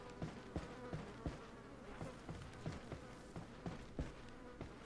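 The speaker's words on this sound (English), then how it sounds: "Many small insects are feasting on leftovers." Small insects buzz around leftovers in the Resident Evil 4 video game, a faint continuous fly-like drone with soft rhythmic pulses, with no speech over it.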